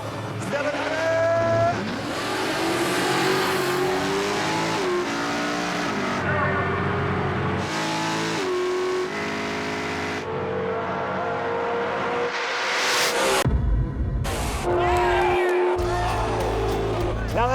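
Drag race cars, one with a 400 cubic inch Chevy engine, roar past with loud revving engines that rise in pitch through the gears, engine notes shifting and overlapping, with a sharp cut and burst near the end; a commentator's voice can be heard.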